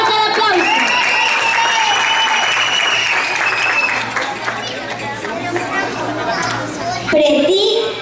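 Audience applause and cheering fill a children's beauty pageant gala, Miss Teen Venezuela Mundo 2018 Infantil, loud and sustained for about eight seconds, with children's voices and crowd chatter mixed in and a burst of noise near the end.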